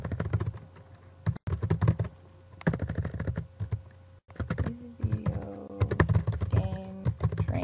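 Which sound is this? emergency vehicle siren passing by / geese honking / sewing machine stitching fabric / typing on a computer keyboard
typing on a computer keyboard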